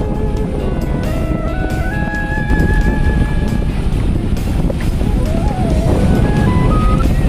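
Loud, constant surf and wind on a quiet Shiroda Beach in Konkan, Sindhudurg, with heavy buffeting against the microphone and faint whistling tones weaving through the rushing water.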